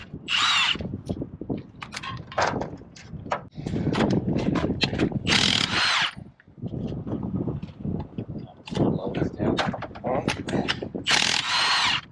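A car jack is pumped by hand, repeated bursts of ratcheting, clanking mechanical strokes separated by brief pauses, loud and close with no talk.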